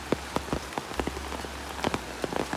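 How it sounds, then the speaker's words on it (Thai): Heavy rain pours down beside the swollen Nam Song river at Vang Vieng in Laos during the rainy season: a dense, steady hiss of rain on surfaces with sharp nearby drips and splats, with no voices. "ฝนตกหนัก"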